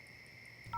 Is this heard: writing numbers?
no